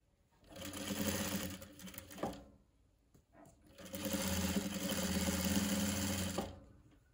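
A sewing machine stitches a fur hoodie cap in two loud, close runs of steady mechanical whirring, separated by a short pause with light clicks.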